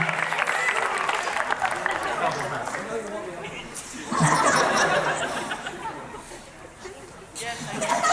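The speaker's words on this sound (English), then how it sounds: "give her a round of applause" Audience applause at a school awards ceremony, steady clapping mixed with crowd chatter and laughter, and a speaker's voice heard over it.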